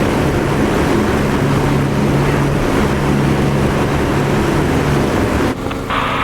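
An aircraft engine held at full boost in DCS, a loud, unbroken roaring drone that stays steady throughout and alters slightly at the very end.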